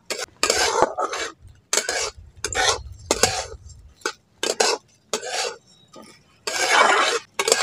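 Raw rice dry-frying in a pan over low heat, stirred with a metal utensil in bursts of scraping, rattling strokes separated by brief pauses, close and clear with no talk.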